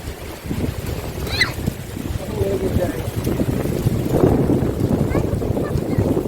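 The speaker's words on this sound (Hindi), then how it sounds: "बहुत ही तेज हवा चल रही है" Strong wind gusting across an open bird sanctuary in Okhla, a steady loud rush and buffeting against the microphone throughout, with occasional faint bird calls and distant voices underneath.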